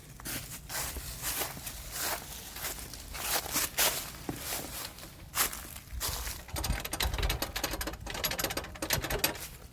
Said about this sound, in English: I need to replace a sway bar end link. I got one that's rattling.